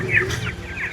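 A chicken gives a short run of clucks, close and clear, with no talking over it.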